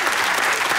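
An audience claps steadily through a Hebrew satirical TV interview with Israel's communications minister, dense applause filling the short moment without a break.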